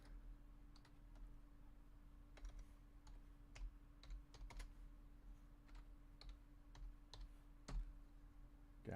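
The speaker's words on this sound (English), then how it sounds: "Sorry, I'm one-handed typing." Rapid clicking of keys on a computer keyboard, typed one-handed, in irregular bursts of sharp taps over a steady low hum, close and fairly quiet with no talking.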